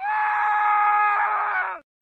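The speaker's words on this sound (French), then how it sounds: "Au même moment, une voix d'homme s'est mise à hurler." A man lets out one long, loud, sustained scream, strained and tonal, holding for nearly two seconds before cutting off abruptly into silence.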